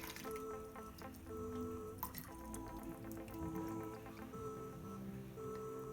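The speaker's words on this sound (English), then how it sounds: "Now let's pour some of our vinegar, which is an acid, over the eggs." Vinegar trickles slowly over eggs in a kitchen container, giving soft, faint drips and a thin liquid patter that continues steadily, with a small knock partway through and no talking.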